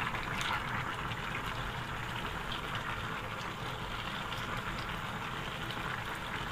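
Cabbage, tomato and peas for vegetable khichuri stirred in a pot over medium heat, a steady soft sizzle and bubbling wash with faint scraping, close and even throughout.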